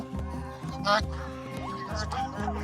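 Geese honk repeatedly at a resort, harsh nasal calls overlapping in a small flock, fairly close, with a voice briefly audible among them.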